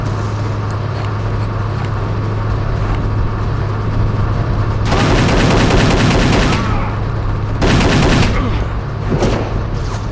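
Dual-wield pistols fire in a video game as two dense bursts of rapid shots, near and loud, over a steady low hum and background game noise.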